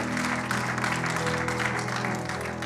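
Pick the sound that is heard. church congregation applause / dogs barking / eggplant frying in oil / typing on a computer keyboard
church congregation applause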